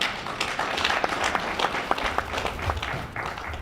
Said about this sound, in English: A big round of applause for the municipal manager when attending the stage, please.